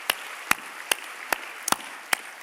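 Sparse, sharp hand claps from a church congregation during a Sunday service, six distinct claps spaced about half a second apart, crisp and fairly close with no talking.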